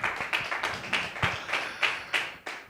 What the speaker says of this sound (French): le seul et l'unique Sam Chintou, que je vous demande d'applaudir bien fort.